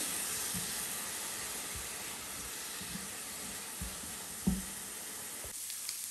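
Vegetables with a teaspoon of salt sauté in a pan, giving a steady soft sizzle and hiss with a few faint clicks of stirring, quiet and close, with no talking.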